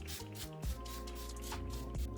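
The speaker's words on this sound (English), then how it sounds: "Just going to give it a nice shake and spray this all over my face." A bottle of natural-finish makeup setting spray gives short, soft hissing bursts as it is misted over a face, with some faint handling noise between sprays.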